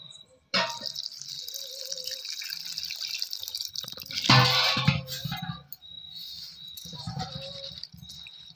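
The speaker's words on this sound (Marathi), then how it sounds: "स्वच्छ पाण्याने धुवून घ्यायचे।" Clean water pours and splashes while a mixture of vegetables is rinsed for a traditional Bhogi vegetable dish cooked over a wood-fired clay stove, a steady trickle with a louder splashing burst midway, alone without talk.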